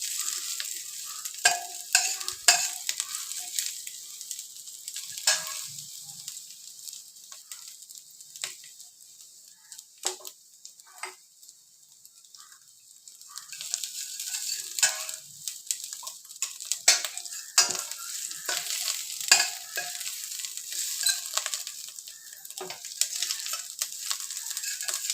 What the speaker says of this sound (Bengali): যখন এই আদাটা একটু ভাজা ভাজা হয়ে যাবে,